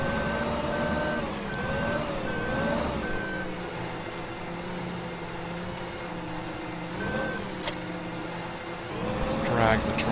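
A tractor backs up with a header trailer in Farming Simulator 15, its steady reversing beeps pulsing over a continuous engine drone, while someone talks throughout.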